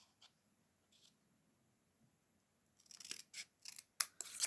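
Scissors snip a paper tag in half lengthwise while a card is made, with a series of short, crisp cuts in the last second and a half after near-silence.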